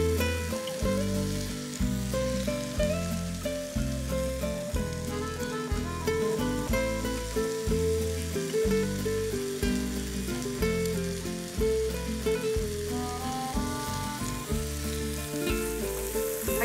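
Chorizo and capsicum sofrito, seasoned with salt, sizzles steadily in a pan as it cooks down, a dense continuous crackle that stays loud and close throughout, without speech. Under the sizzle runs a regular pulsing pattern of musical notes.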